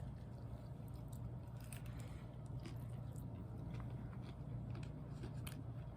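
Crunchy carrots are chewed close to the mic with repeated soft crisp bites and rustles over a low steady background hum.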